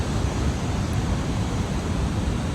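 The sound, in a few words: flood water flowing at Lake Malone, Kentucky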